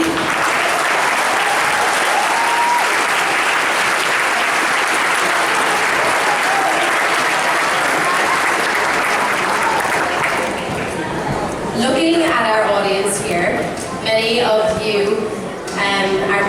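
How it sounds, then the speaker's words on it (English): A large audience applauds the Birth Cross family at a ceiliúradh concert evening, a dense sustained wash of clapping that thins toward the end as cheers and whoops break through. "I think another round of applause for the Birth Cross family."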